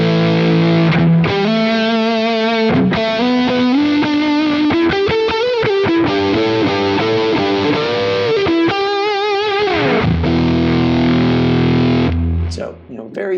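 Electric guitar with its volume at 10 through a fuzz pedal model on a Quad Cortex: thick, saturated fuzz riffs with bends and sustained notes, loud and close, ending in a low ringing chord.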